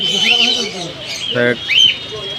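Pigeons chirp and squawk at close range at a bird market, with cooing and busy chatter of people talking in the background.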